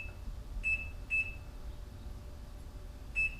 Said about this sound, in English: So I'm going to just set a quick little timer